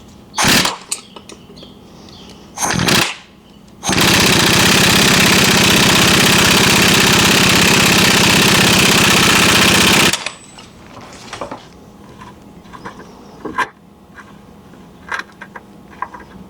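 An impact wrench tightening the nut on a transfer case adapter of a 1976 Jeep CJ-5 T-150 transmission: two short bursts, then a long loud continuous hammering rattle lasting about six seconds, close and followed by light clinks.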